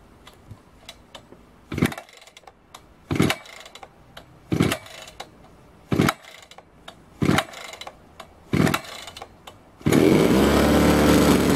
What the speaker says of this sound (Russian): Как видим, триммер завелся